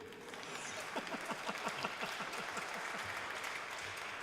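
A panel audience gives a short round of applause, a fairly quiet, distant patter of clapping with a few rhythmic, more distinct claps standing out in the middle before it settles.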